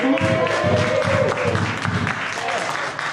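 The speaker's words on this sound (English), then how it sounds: "Give yourself a round of applause" Applause from a small drumming and dance class, steady clapping mixed with a cheer and some voices, fairly close and lasting the whole stretch.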